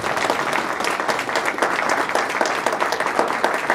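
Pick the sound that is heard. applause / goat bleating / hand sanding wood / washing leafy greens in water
applause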